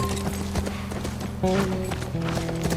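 Horse hooves clip-clop in a steady trotting rhythm during a mounted chase in the video game The Last of Us Part I, close and clear over layered game music and ambience.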